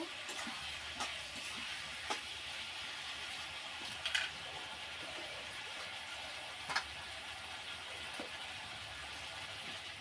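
Curry being fried down in a pan gives off a steady, fairly faint hiss that runs the whole time. A few soft clinks and scrapes sound now and then over it.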